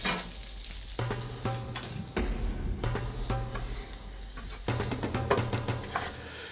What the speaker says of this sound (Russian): Теперь прямо сюда, вот в это ароматизированное уже масло, я опускаю вареный рис.